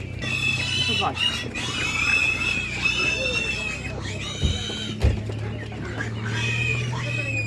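Hens and roosters cluck and squawk at a village livestock market in Ukraine, close and busy with overlapping calls, while people talk nearby and a few sharp knocks cut through.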